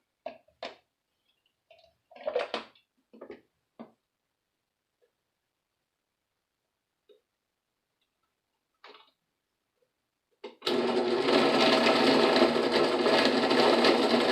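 After a few light clicks and taps, a blender blending fresh coconut for homemade coconut milk starts up suddenly and runs at a loud, steady roar.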